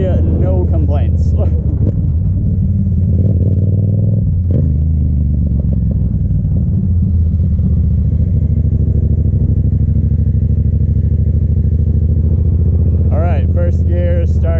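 A Yamaha FZ-07 motorcycle engine pulling steadily in first gear at low speed around 9 to 10 mph, a loud, close, continuous rumble with a rider talking over it at the start and end.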